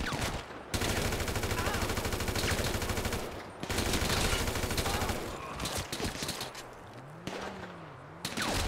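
Rapid automatic gunfire bursts from the GTA 5 video game rattle loudly in long sustained volleys with brief pauses, joined by a low sweeping whoosh near the end.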